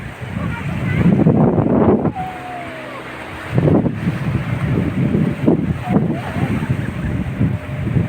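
Waves breaking and wind gusting on Vagator beach in North Goa, a steady broad roar of surf with rumbling wind buffeting the microphone and a few louder surges.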